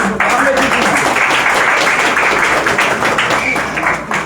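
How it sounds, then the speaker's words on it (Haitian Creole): Crowd applauding at a Mother's Day celebration, a dense continuous wash of clapping from many hands, loud and sustained for several seconds with voices mixed in. "alors applaudissez-nous"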